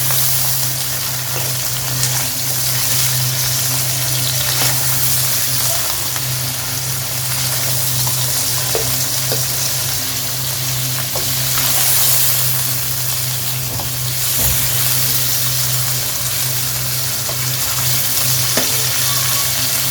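Pieces of goat or chicken liver (kaleji) fry alone in an oiled pan, giving a steady, close, continuous sizzle with a constant low hum beneath and occasional faint stirring clicks.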